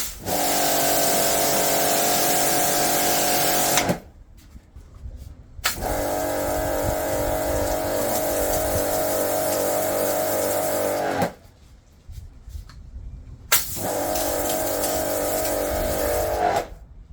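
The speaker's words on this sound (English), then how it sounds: "That's giving a wide spray." Karcher-style jetwash pressure washer fitted with a white nozzle giving a wide spray, a loud close hissing roar in three long bursts separated by short pauses.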